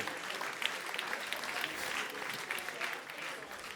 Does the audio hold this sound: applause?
yes